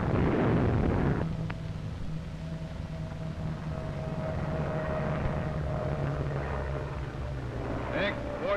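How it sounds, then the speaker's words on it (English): Engines of Japanese dive bomber aircraft attacking Pearl Harbor make a loud, steady droning roar with a low rumble and a faint whine, preceded by a harsh burst of noise in the first second. "Dive bombers go into action."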